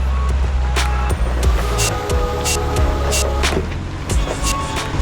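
A Jeep CJ-7 with custom roll-cage tubing drives over to a garage, its engine a loud, close low rumble throughout, with a few metallic clanks and rattles on top.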